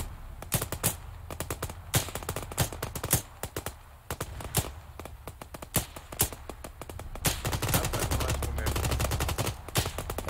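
Gunfire in the video game Arma 3 cracks out as scattered single shots and rapid bursts, some close and sharp, others distant, sounding irregularly over a low rumbling background throughout.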